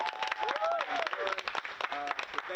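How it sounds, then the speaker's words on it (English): Scattered, moderately faint clapping from a small audience, uneven sharp claps mixed with voices and a few shouts talking over them. "clap your hands for yourself, man."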